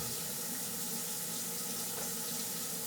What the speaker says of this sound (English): Now I got cold water running here.